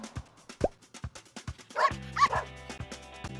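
A Husky German Shepherd cross dog barks in a string of short, sharp woofs and yips, fairly evenly spaced, followed by a couple of whining, drawn-out whimpers, heard up close.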